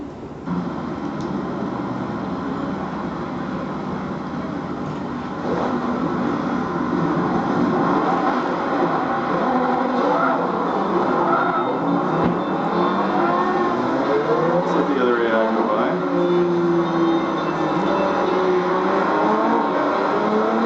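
Several race cars start together at Le Mans in the Forza Motorsport 3 racing game, their engines revving and rising in pitch as they accelerate, loud and steady with sweeping tonal changes and no talking.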